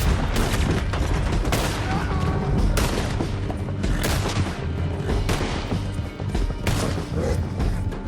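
Heavy gunfire in a Red Dead Redemption 2 canyon chase, with dense overlapping shots and booms going nonstop throughout, loud and close, with some shouting mixed in.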